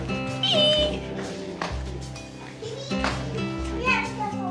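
A cat meowing amid children's playful talk, several rising meows threaded through loud overlapping kid voices and background music-like tones.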